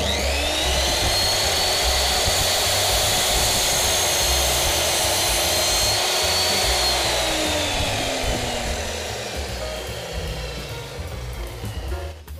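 A power saw cuts straight along a wooden fishing rod holder piece with a loud, steady whine. Motor pitch sags near the end as the blade slows and winds down.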